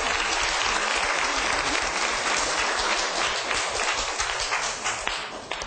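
Classroom applause in a televised Korean philosophy lecture, a dense, loud burst of many students clapping together that holds steady and then tapers at the end.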